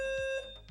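A short electronic alarm tone from a fire alarm in a venue during an esports Tetris championship stream, a steady high beeping pitch lasting under a second at moderate level.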